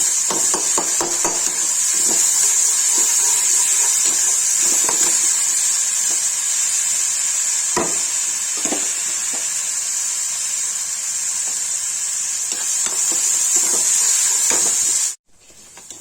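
Tomato puree and ginger-garlic paste fry in a pan for a lauki kofta curry, a steady bright sizzle broken by sharp clicks and taps of a spoon, cutting off abruptly near the end.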